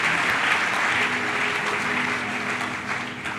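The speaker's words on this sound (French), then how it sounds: "Acclame très fort" A church congregation applauds loudly and steadily during a French-language prophetic sermon, a dense wash of clapping that holds at full strength before easing slightly toward the end.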